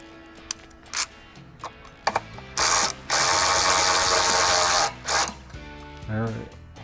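Snap-on ratchet and power tool work tightening bolts on aftermarket side steps: short ratcheting clicks, then a long loud burst of tool whir with several shorter bursts around it, close by.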